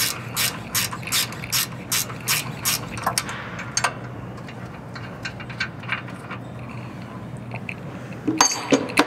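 A 10 mm gear wrench ratchets a bolt loose on a 2018 Ford Raptor suspension, giving a close, regular series of sharp clicking strokes, then quieter scattered clicks and a clink of metal near the end.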